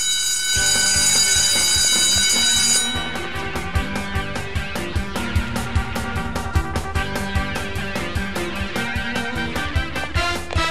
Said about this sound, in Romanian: Camioneta cu înghețată și clopoțelul ei asasină.